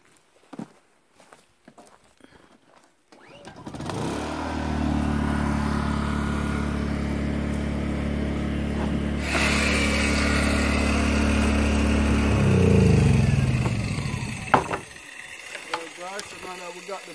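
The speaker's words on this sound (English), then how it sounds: "crank up the generator, guys, and excuse me for the noise." A portable generator starts up on a farm build site and runs steadily and loudly, its engine drone holding even with a brief surge near the end before cutting off, with a few clicks and footsteps around it.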